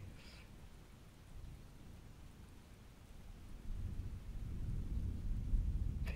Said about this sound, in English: The majestic low rumble of the thunder makes you feel safe.